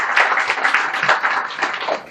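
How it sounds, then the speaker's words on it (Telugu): An audience at a government hospital in Savalyapuram claps hands in congratulation, a dense burst of applause lasting a couple of seconds, close and fairly loud. "ఒకసారి గట్టిగా చప్పట్లు కొట్టి అభినందనలు తెలియజేయండి"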